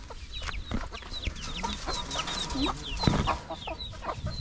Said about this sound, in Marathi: कोंबडीनं अंडा घातला